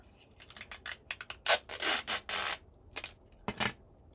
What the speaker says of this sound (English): a piece of cellophane tape and put it there